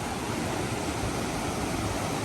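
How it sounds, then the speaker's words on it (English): Rushing water from two small waterfalls beside a forest hiking trail in Pisgah National Forest, North Carolina, a steady, close, full roar of falling water with no pauses and no voices. "2 little small waterfalls."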